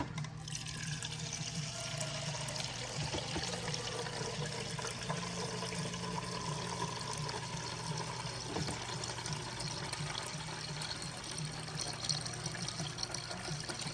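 Water runs steadily into a pot for seafood paella with seasoned rice, a continuous faint pouring and splashing stream that holds at an even level throughout.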